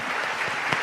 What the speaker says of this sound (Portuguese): A gente só vai parar de aplaudir quando o último passar pela porta.